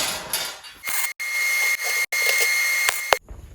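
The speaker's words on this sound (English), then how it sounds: "So I'm just going to cut this old saw blade into a shape that kind of extends this out." A power tool cuts through an old steel saw blade being shaped into a scrap-metal garden sculpture, a loud steady grinding whine with a sustained high ring, broken by short pauses, then stopping near the end.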